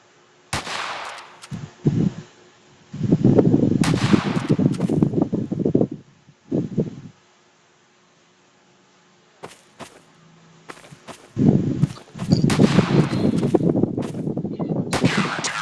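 Gunfire in a shooting video game sounds in loud, dense bursts separated by quiet gaps, with a final long stretch of rapid shots and scattered sharp cracks.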